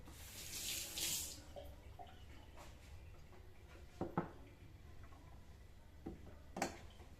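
Food being rinsed under a running tap, an opening rush of water followed by quieter splashing and a few sharp clinks and knocks of handling in a sink, fairly faint overall.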